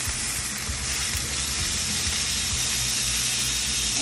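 Meat sears in a hot pan with a dense, continuous hissing sizzle, steady and loud throughout with no voices.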